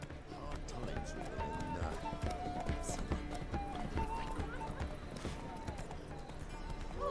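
Roach, a horse in The Witcher 3: Wild Hunt, gallops in a steady rhythmic clip-clop of hooves under game music and ambient sound, with a voice talking over it.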